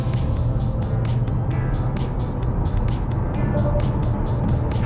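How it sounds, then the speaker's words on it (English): A 2020 Hyundai Kona Electric Elite accelerates hard from 0 to 100 with a bit of front wheel spin, heard from inside the cabin as a loud, steady roar of road and tyre noise with a faint electric whine. "0 to 100, let's see how the Hyundai Kona EV handles it"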